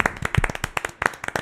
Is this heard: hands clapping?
yes